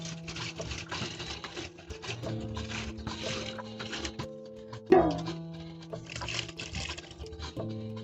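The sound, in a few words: pouring water into pot of Kikomando beans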